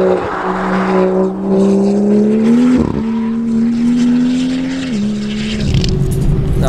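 A BMW M2 GTS on a race track at Bedford with its exhaust valves open gives a loud, steady engine drone heard from inside the car, with a brief dip and a shift in pitch partway through.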